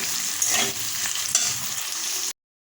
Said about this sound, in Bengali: নাড়াচাড়া করে পেঁয়াজটা লাল লাল হোক